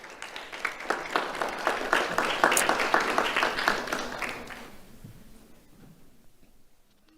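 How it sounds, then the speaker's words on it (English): An audience at a school awards ceremony applauds a second-grade honoree, a dense burst of clapping from many hands that swells, holds for several seconds, then thins out and fades away. "Let's have a round of applause for Patrona Martin Garcia."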